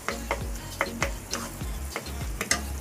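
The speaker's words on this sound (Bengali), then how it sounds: "আমি এখন ভালো করে নাড়বো।" Chopped onion, about two tablespoons, stirred into cooking tomato in a frying pan for masala noodles: a steady sizzle with repeated scraping strokes of the spoon roughly every half second, close and clear, no voices.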